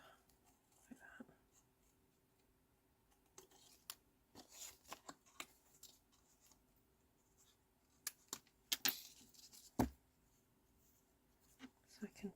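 Scissors snipping through thin hand-stamped cardstock to trim a leaf shape for cardmaking, heard as a few faint, sparse cuts and paper rustles near the mic in a quiet room, with soft speech now and then.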